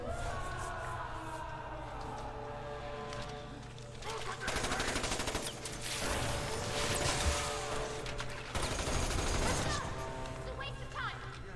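Automatic gunfire in the video game Resident Evil 6, rattling bursts that rise and fall over a steady game backdrop, with a voice talking under the shooting.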